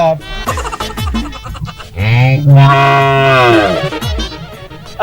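A village cow held for a veterinary injection lets out a long, loud, drawn-out moo lasting a couple of seconds, preceded by brief scuffling and vocal noises.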